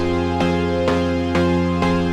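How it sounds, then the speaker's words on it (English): Rich, buzzy saw-wave synth chords sound in four evenly spaced stabs, each held until the next, bright and dense with no talking. "a saw chord preset that sounds like this."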